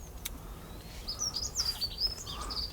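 A garden goldfinch sings in faint, high, twittering chirps and bright trills. The bird sounds somewhat distant, with a quiet outdoor hush underneath and no talking.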